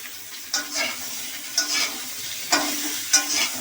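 Raw green banana frying in a pan for a light Bengali fish curry, stirred in several distinct scraping bursts over a steady, soft sizzle close by.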